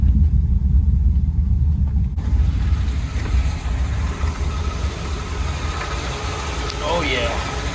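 A 1979 engine, likely a 350, idles with a steady low rumble and even throb, close by, while a voice speaks briefly over it.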